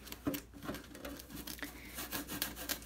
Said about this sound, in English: And you just rub it in with one, and you'll see some of these micro scratches fade away.